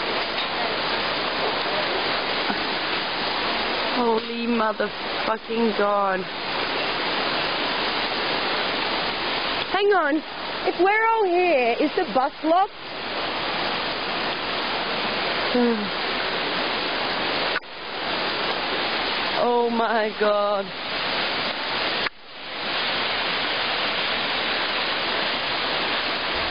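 A river beside a road in Montana rushes in a loud, steady broadband wash close by, while several people talk and exclaim excitedly over the constant flow.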